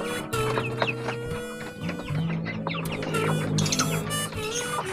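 Domestic chickens clucking close by, a busy overlapping series of short clucks and calls from several birds, with no talk.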